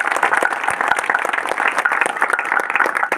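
Applause from an audience at a mining area gathering, a dense steady patter of many hands clapping throughout, fairly close and sustained without speech.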